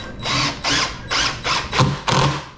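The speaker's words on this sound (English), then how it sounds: "Run my screws in, then work my way to the outside edges." A power drill drives screws into 2x4 table boards in six closely spaced bursts, each a loud whirring run of about a third of a second with short pauses between.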